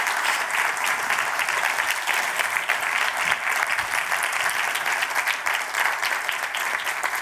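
An indoor business-talk audience applauds the panellists, steady close clapping from many hands that holds at an even level for several seconds, with no one speaking over it.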